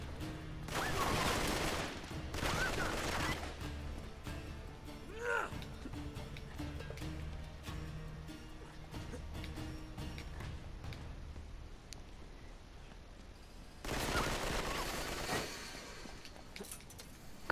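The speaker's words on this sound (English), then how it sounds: "Ah, who's shooting me?" Enemy gunfire in the Uncharted action game plays as bursts of rapid shots and clatter, loudest early and again near the end, with quieter mechanical creaks in between.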